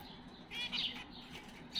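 Bengalese finches chirping in a bird seller's shop, faint, high, quick tweets in a few short clusters over a quiet background hum, with no talking.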